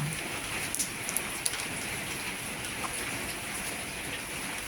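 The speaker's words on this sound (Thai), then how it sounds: "ฝนก็ตก" Steady rain patters continuously on a surface, with occasional louder drips standing out against the even hiss.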